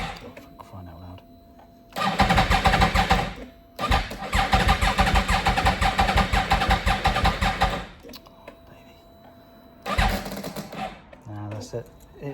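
A motorcycle with a bad battery cranks in three long labored bursts, the starter churning rhythmically but never catching, with short pauses and a voice speaking between attempts.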